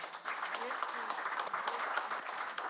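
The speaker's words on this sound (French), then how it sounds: "Je vous demande de l'applaudir." Quiet, fairly distant applause from an audience for an author at a conference hour, a steady soft patter of clapping lasting throughout with faint voices beneath.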